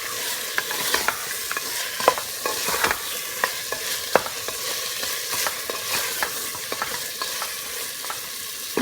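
Beef curry being stirred and browned in a pot, with a steady sizzle and repeated scraping strokes of a spoon against the pot, fairly close and with no voices.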